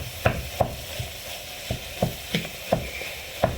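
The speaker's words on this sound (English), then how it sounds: "I'm just going to keep stirring that and breaking it all up." Mince frying in a pan for chilli con carne, stirred and broken up with a utensil: sharp scraping knocks repeat roughly every third of a second over a soft, steady sizzle, close and clear.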